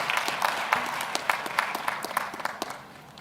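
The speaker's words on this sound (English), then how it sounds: "Can we have a round of applause for the Strathmore Institute of Management and Technology?" Scattered applause at a university graduation ceremony: individual claps stand out in an uneven rhythm, moderately distant and fading toward the end.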